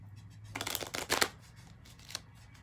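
A deck of playing cards is shuffled close by, heard as a quick riffle followed by a second burst of fluttering, then a softer single flick, all alone and free of talk.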